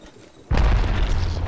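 An airstrike in the battle royale game Apex Legends: a sudden heavy boom after a quiet moment, then a loud rumbling wash of explosions that carries on to the end.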